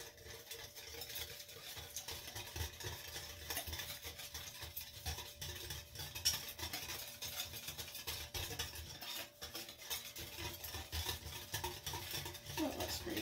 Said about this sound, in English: We'll stir that to get that all combined.